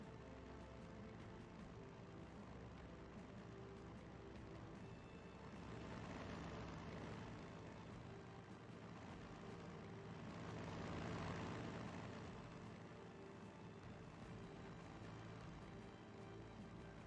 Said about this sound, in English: A tactical bomber is here.